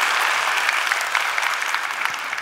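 A full hall audience at a Sebasi talk show claps in a steady, dense roar of applause, even and sustained throughout with no speech on top.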